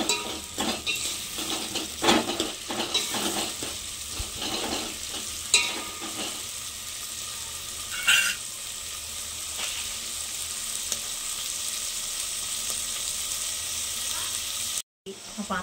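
Vegetables sizzle and fry steadily in a pan while a utensil scrapes and stirs them in irregular strokes, close and moderately loud.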